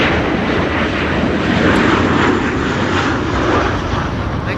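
A large jet airliner climbs out after takeoff from Amsterdam Schiphol in high storm winds, its engines a steady, loud broadband roar mixed with wind noise throughout.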